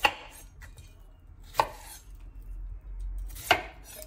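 A cucumber is roughly chopped with a knife on a board, three sharp separate cuts spread out with quiet pauses between them, close and fairly loud, with no talking.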